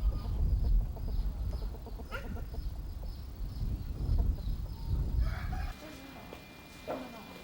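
Restored Korean native grey-brown chickens cluck and crow over a low, busy background that continues for several seconds, then thins to quieter, scattered calls.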